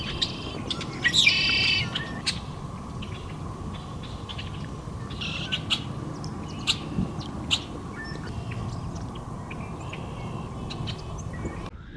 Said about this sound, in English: Some beautiful birds around here.